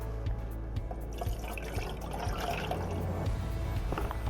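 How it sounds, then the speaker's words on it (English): Water poured into a pot for a kashayam immunity drink made with betel leaves, turmeric and pepper, a soft steady trickle and splash under low kitchen background noise, no talking. "First pour water."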